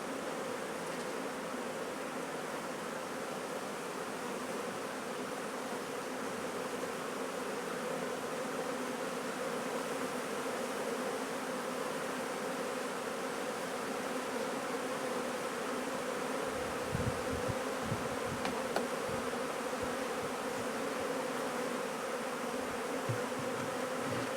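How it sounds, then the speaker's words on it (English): Honey bees buzz in a dense, steady hum around an Ashforth feeder on a hive. The swarm drones close by throughout, with a few soft knocks near the end. "The bees will fly back, some of them, but once it gets starts getting dark, they won't want to fly back into the supers"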